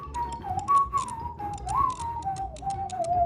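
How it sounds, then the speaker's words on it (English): A person whistles a wandering, unhurried tune alone during a Minecraft speedrun, the clear steady notes rising and dipping over faint clicking and a low background hum. "He's literally whistling while a piglin is building a nether portal"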